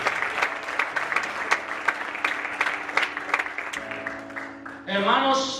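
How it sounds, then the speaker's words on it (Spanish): A church congregation claps in a sharp, uneven rhythm of distinct hand strikes, with a sustained tone and a sliding musical note rising near the end as the clapping fades. "Si va a aplaudir, aplaude a Él."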